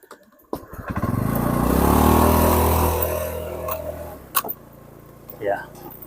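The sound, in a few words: motorcycle engine after turning the motorbike around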